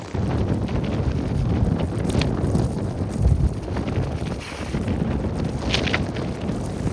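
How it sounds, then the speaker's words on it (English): Strong gusting wind on a cold, stormy height buffets the microphone with a steady roar, rising and falling, and no voices. "It's really stormy up here now. Cold, stormy, windy."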